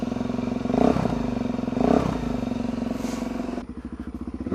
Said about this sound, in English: this is the first start of the new Derek